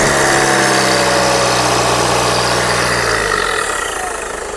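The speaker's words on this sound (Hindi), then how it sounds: "हो गई स्टार्ट भैया हमारी गाड़ी" A Ford EcoSport runs loudly at idle right after starting, a close, steady engine drone that wavers and then drops off as the engine dies near the end.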